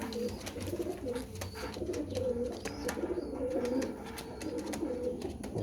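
Moulting pet pigeons in a fancier's loft coo in low, repeated calls close by, with soft rustling and a few faint chirps.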